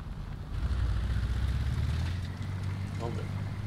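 A video game vehicle engine with no muffler roars loud and steady, a deep, throaty rumble running throughout, with a voice talking over it.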